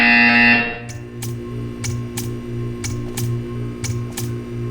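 A loud buzzing tone in the video game Portal 2 cuts off abruptly. A faint repeating mechanical ticking pulse follows in an even rhythm.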